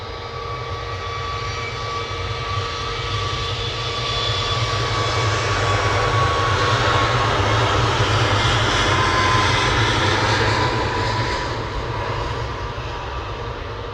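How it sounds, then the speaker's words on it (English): Steady, loud jet engine roar from a Ryanair Boeing 737 at Manchester Airport, swelling slightly mid-clip and holding as a continuous broadband rumble with no talk. "Flight FR3240. It's a 737-800 to the max."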